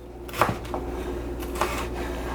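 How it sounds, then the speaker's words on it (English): Knife cutting sliced food into even-sized cubes for a chopped cheese sandwich, giving two close, crisp chops against a cutting board with faint softer taps in between. "cut them into cubes, pretty much even sized cubes"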